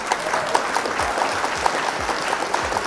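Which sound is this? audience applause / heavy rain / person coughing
audience applause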